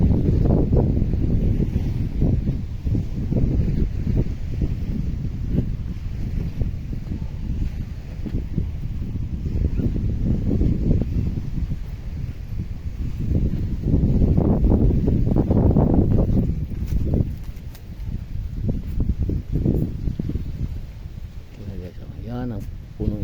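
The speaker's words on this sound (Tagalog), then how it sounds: "malakas ang hangin" Strong outdoor wind buffets the microphone in a rural province, heavy low rumbling gusts that swell and fade in waves, with a person talking intermittently over it.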